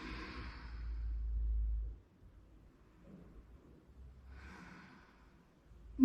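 Slow, deep breathing during a yoga stretch in a core strength class, with a long, soft exhale at the start and quieter breaths that follow, close and faint.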